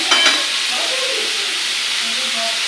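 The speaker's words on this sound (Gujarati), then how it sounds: "હવે લસણ નાખવાનું છે." Chopped garlic and onions sizzling and frying in a home kitchen pan during Gujarati-style pizza prep, a steady close broadband hiss with a brief stirring clatter at the start and no talking.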